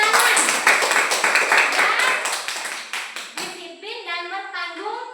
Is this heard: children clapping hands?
yes